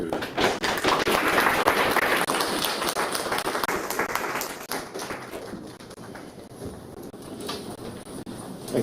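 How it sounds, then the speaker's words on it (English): Applause from a conference audience at an open-source hardware talk, strong at first, then thinning into scattered claps by the end. "give a big applause to"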